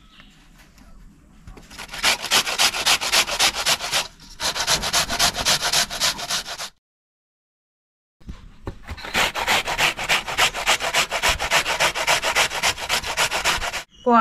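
Ash gourd is grated by hand for vade in a home kitchen, fast rhythmic rasping strokes in two long bursts separated by a short silent pause, loud and close with no speech.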